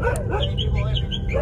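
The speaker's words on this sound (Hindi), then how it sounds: "गांव के कुत्ते पागल हो गए" Several village dogs bark and yip aggressively on a rural roadway, a continuous nearby clamor with overlapping whines and yelps mixed with people talking.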